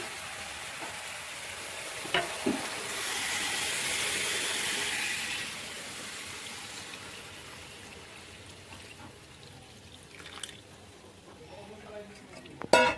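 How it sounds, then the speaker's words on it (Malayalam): A soft hissing rush of steam from a pot of chicken and ash gourd curry swells for a few seconds and fades, with occasional clinks of a lid or spoon nearby. "നല്ല ആവിയൊക്കെ വന്നു"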